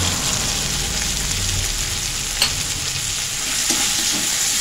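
Spice masala of green chili paste and turmeric fries in oil for parwal chop while being stirred, making a close, even sizzle with occasional soft scrapes and no talking.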